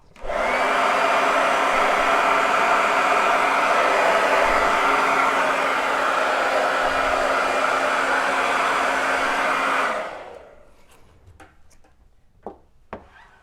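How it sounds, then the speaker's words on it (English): A hair dryer on its hot setting blows steadily and loudly for about ten seconds, then cuts off, leaving a few faint clicks and handling noises. "So I'm gonna grab a hair dryer and put it on hot."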